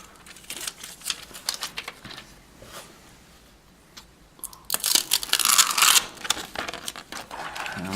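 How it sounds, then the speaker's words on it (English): Protective plastic film is peeled off a Nexus 10 tablet close to the microphone, with crinkly crackles and soft tearing rips that build to a louder, dense crackling burst toward the end. "Let's peel back that plastic."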